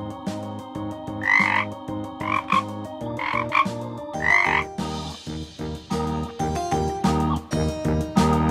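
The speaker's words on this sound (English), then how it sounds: "Frog." Frog croaking in a repeated, loud run of throaty calls with a steady pulsing rhythm, close and clear with no talking.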